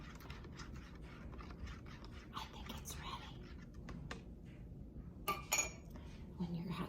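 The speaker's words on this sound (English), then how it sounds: "spoon and stir it up very carefully" A spoon stirs hot cocoa in a mug, giving faint, soft clinks and scrapes against the ceramic under quiet whispered talk, with a couple of sharper clinks near the end.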